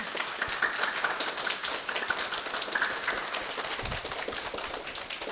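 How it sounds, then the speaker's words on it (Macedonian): A children's audience claps after a storytelling session, steady scattered applause filling the whole stretch at moderate loudness with no talking over it. "Ајде аплауз."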